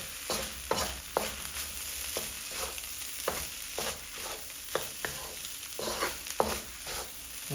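Shrimp fried rice with chopped scallion gets tossed in a hot pan, a quiet continuous sizzle broken by regular scraping and clattering stirs roughly every half second.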